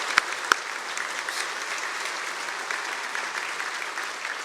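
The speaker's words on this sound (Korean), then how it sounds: "여러분 반갑게 박수로 맞아주시겠습니까?" Continuous, even clapping from a church congregation welcoming a preacher, with two sharp knocks near the start.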